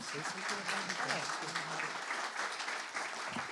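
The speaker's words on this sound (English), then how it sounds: "Give a round of applause to our guests." Audience applause for guests at the launch of a center for digital curiosity, steady clapping filling the room throughout, with a faint voice briefly audible underneath.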